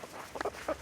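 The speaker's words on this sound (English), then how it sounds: "all of the turkeys and chickens that are following me right now" Farmyard turkeys and chickens trailing close behind someone, giving a few short soft clucks and chirps in quick succession over a quiet outdoor background.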